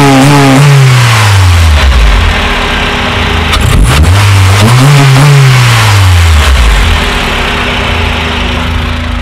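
Honda Civic EP2 engine, fitted with sound deadening, revs up and down twice as a loud, close, continuous rasp that climbs, falls and climbs again with no talking.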